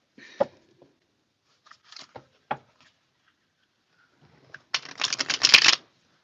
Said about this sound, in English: It's really hard for me to shuffle these cards.